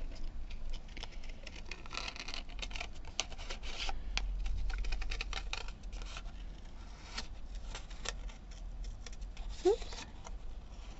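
Scissors snipping through paper for a craft project in quick irregular clicks and crisp cuts, close and fairly quiet against a soft background.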